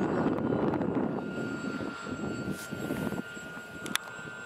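An RC model airplane carrying extra weight on an endurance test flight drones overhead at climbing throttle, a steady engine hum that stays moderately loud and distant with no one speaking.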